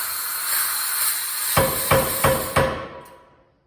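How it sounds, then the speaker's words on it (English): A 100-pound air power hammer, worked by a foot pedal, thumps four times in quick succession over a steady hiss of compressed air, each blow loud and close, then the hiss fades away; no one speaks. "It's got a pretty good thump for a 100-pound hammer."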